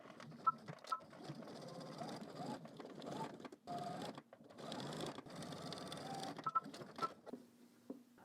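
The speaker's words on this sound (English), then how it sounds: "So now I'm going ahead and put my needle in, and we're just going to stitch all the way up." Sewing machine stitching a zipper fly onto a pair of pants, a steady close whirring hum running in bursts with brief pauses and light clicks between runs.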